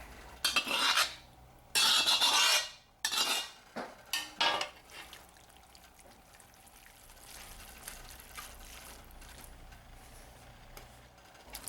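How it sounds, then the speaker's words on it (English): Vegetables tumble and clatter into a cast iron pot for Brunswick stew in a few loud bursts, followed by quieter scraping and faint stirring noises in a kitchen. "All we have to do now is add everything to the pot"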